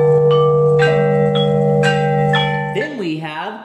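Chinese bianzhong bronze bells struck with a mallet: a series of clear, ringing metallic strikes, each decaying slowly into a sustained tone, played alone and up close, followed by a brief wavering tone at the end.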